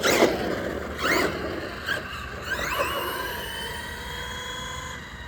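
WOV Racing Blitzkrieg 4S RC car running on four cells at full throttle on its first run: a loud whining motor that surges in several bursts, then settles into a steady high-pitched drone that sweeps up in pitch.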